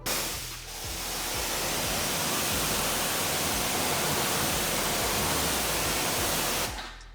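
Water hose rinsing foam off a car during a rinseless wash, a steady loud hiss of spraying water that runs almost the whole time and then cuts off near the end.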